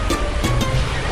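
Sea waves wash onto a shore as a story sound effect, a steady loud roar of surf with a few rolling swells breaking in succession.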